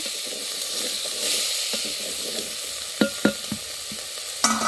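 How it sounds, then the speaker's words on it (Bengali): Potatoes, pointed gourd and drumstick pieces frying in hot oil for a tangra fish curry in a village kitchen, a constant sizzling hiss with a few scraping stirs and clatters toward the end, close with no talk. "তেলানি হয়ে গেছে তো এখন সব ঢেলে দিচ্ছে সবজি এখানে আলু পটল আর সজনে ডাটা আছে"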